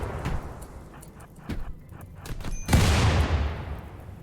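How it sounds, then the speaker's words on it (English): Grenades and Molotov cocktails going off in a RimWorld firefight, a few scattered pops followed by one loud, broad explosion that decays over a second or so, with little talk. "they're all grenades and Molotovs"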